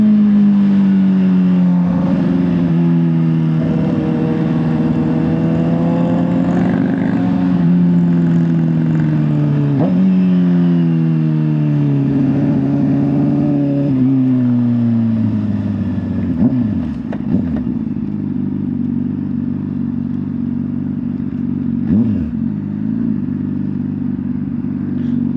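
Sport motorcycles, including a ZX6R, pulling up with engines droning loudly and close, pitch rising and falling through repeated revs, then settling into a rough idle with brief clatter.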